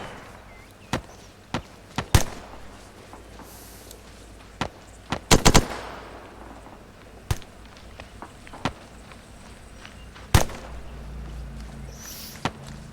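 Scattered gunshots and short bursts of rifle fire in ArmA 3 during a platoon attack exercise, irregular sharp cracks spread across the span, some near and loud, others more distant, over a low rumbling background.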